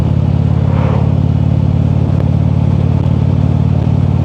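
A motorcycle cruises on a road in snowy 36-degree weather, its engine a steady, loud, close drone with road and wind rumble throughout and no talk.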